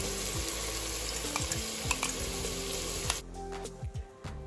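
Ginger garlic paste sizzles and fries steadily in a pan for chicken biryani, with repeated scraping stir strokes and a brief tap or water sound near the end.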